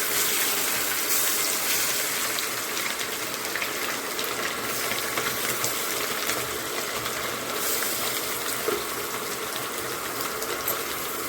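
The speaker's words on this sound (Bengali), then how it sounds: "এখন কড়াইতে তেল দিয়ে মাছটা ভাজা বসাবো" Small fish fry in hot oil in a wok, a dense, continuous bubbling sizzle that stays even and moderately loud throughout, with no one speaking.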